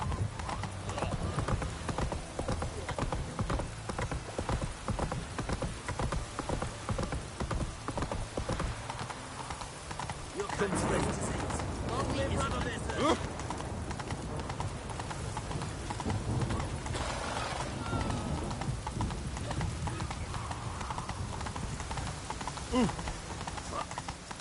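Hooves of Roach the horse clatter in a fast, steady gallop through The Witcher 3, a continuous rhythmic drumming that runs throughout, with game ambience and a snort or whinny mixed in.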